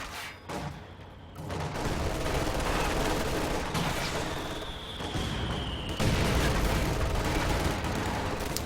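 Sustained machine gun fire and battle noise in a WWII strategy video game, a dense, continuous roar of shots and booms at steady loudness with a brief whistling tone midway.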